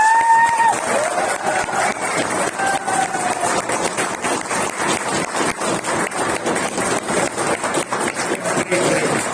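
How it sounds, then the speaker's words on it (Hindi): An audience at a seminar on blockchain and coins claps together in a dense, sustained round of applause, close and loud, with a brief tone at the start. "एक बार अपने आप के लिए जोरदार ताली बजाइए।"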